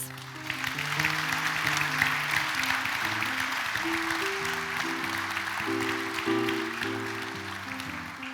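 Audience applause at a graduation ceremony for a Novo mesto vocational college, steady, dense clapping filling the whole stretch, with music-like tonal sounds running beneath it.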